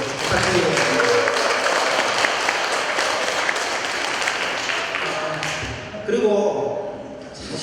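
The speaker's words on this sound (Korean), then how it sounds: "근데 박수 나면 크게 부탁드리겠습니다." A loud crowd applauds at a Korean talk show event, dense clapping holding strong for about six seconds, then thinning as a voice briefly speaks over the last claps.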